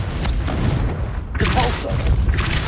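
A Confringo spell goes off in Hogwarts Legacy as a loud, booming blast with rumbling low end. A brief dip is followed by another heavy burst of magical impact and crackle.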